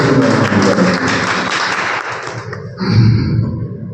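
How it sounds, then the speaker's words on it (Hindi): An audience at a farmers' union meeting in Mathura claps in welcome, a dense burst of applause that fades after about two and a half seconds before a brief louder sound. "ताली बजा के स्वागत करें।"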